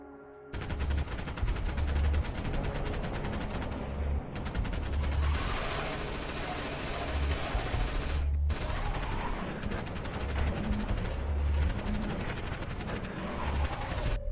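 A modded rifle in Fallout 4 fires on full auto in long, loud sustained bursts, broken by two short gaps where the shooting briefly stops before the rapid rattling resumes.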